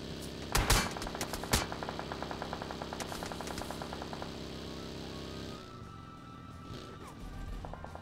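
Gunfire in PUBG: a loud close shot burst, then a steady rapid automatic rattle lasting several seconds before it stops, leaving engine-like rumble and a few distant shots.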